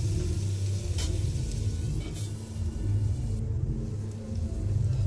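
Chopped tomatoes frying with garlic paste in a hot pan give a steady, moderately quiet sizzle that runs unbroken throughout, with a couple of faint clinks from stirring.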